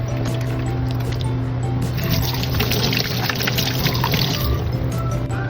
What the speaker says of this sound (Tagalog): Maghugas muna tayo ng kamay.